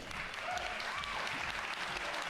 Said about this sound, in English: Thanks for the warm applause